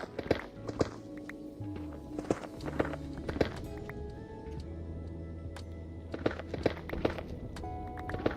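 Minecraft horse hooves clopping along in an uneven walking rhythm, soft thuds scattered across the scene, quiet and close, among faint game ambience and brief tonal sounds.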